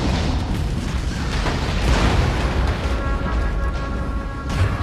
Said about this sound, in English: He then ruthlessly detonated a gas canister before frantically fleeing the scene